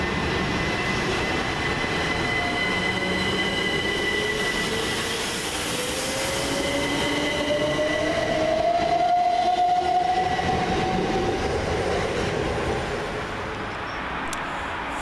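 A Southern Class 377 electric train, unit 377134, runs through Goring-by-Sea station on a Southampton to Brighton service, giving a steady rail rumble and rising whine as it passes close by, with no talk.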